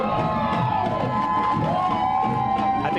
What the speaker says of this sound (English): I think this is the biggest cheering we've heard for anybody going by here.